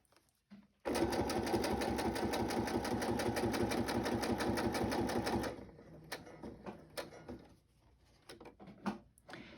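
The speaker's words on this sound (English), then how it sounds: "Just stick in the sewing machine, I hope." A sewing machine runs steadily for several seconds with a fast, even mechanical rhythm, then stops, followed by soft clicks and handling noises nearby.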